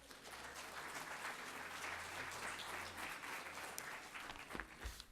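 Applause at a 2015 La Raza graduation ceremony, a dense, sustained crowd clapping heard from a distance, fairly faint and steady, with a few louder individual claps near the end.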